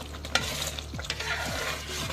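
Aravana payasam of rice, jaggery and ghee is stirred in an uruli, with a thick sticky scraping that repeats about every half second over a soft bubbling sizzle.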